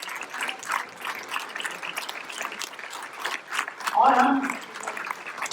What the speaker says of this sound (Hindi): हम 2000 तालियों के साथ सबका स्वागत करेंगे